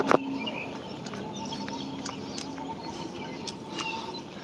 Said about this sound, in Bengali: এই যে কাক একটা আসছে